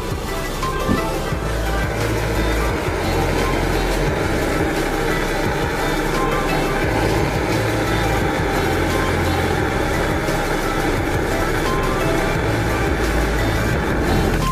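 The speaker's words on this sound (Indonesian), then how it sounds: "saya akan memanaskan dengan menggunakan gas tot seperti ini" A gas torch heats a leaking cooking pot, a loud, steady roaring blast that holds with little change throughout.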